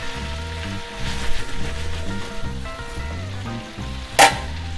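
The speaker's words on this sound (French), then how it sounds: "On va rajouter un petit peu de beurre pour que ça mousse un petit peu plus." New potatoes fry in foaming butter in a pan, a steady crackling sizzle with a sharp louder burst near the end.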